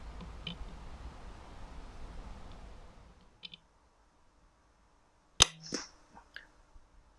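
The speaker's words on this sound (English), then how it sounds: "when you hear me take the shot, listen for the thud as it hits the rabbit" A dull hiss of background noise fades out, then a single sharp crack from a Lithgow 101 .22 rifle rings out, followed by a faint distant thud as the bullet hits a rabbit.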